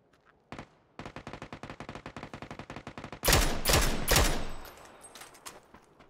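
Rapid automatic gunfire in PUBG on the Erangel map, with a steady burst of evenly spaced shots followed by a louder, heavier volley of overlapping blasts that fades out.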